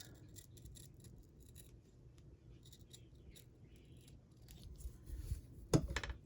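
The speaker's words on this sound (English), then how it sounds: "We'll just cut it out. We'll fussy cut it." Scissors fussy cutting a paper heart for a handmade Valentine card, with a close, steady run of soft snipping and rustling that grows louder near the end, with one sharp clack.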